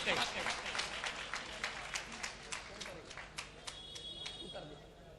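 Audience applause at a mushaira poetry gathering in Nagpur, dense clapping throughout with scattered sharper claps standing out, steady and moderately loud, while a voice talks over it.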